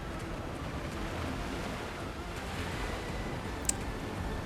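Steady surf washing onto a beach in the video game Clair Obscur: Expedition 33, a continuous broadband rush of waves with a breezy hiss and one brief click near the end.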